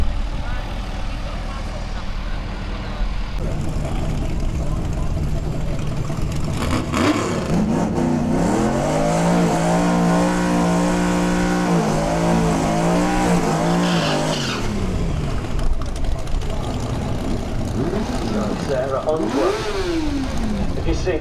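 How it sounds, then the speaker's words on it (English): Drag racing cars at Melbourne Raceway, York, rev hard and launch with tire squeal, a loud rising and falling engine scream passing close by, with crowd noise and talk in the background throughout. "we're here at Melbourne Raceway, York to watch a drag race"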